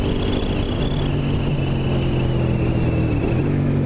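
A Suzuki SV650 motorcycle fitted with an SP Tadao aftermarket muffler holds a steady high-rev engine drone, a continuous buzzing tone with a slight pitch drift near the end, close and loud with no talking.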